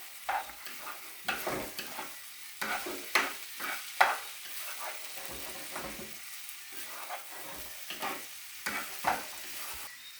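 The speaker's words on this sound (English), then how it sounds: "here goes your chili powder. Add that in. Give that a stir." Chili powder being stirred into mung daal in a pot, with repeated scraping strokes of a spoon over a soft, steady cooking sizzle, close and moderately loud, no talking.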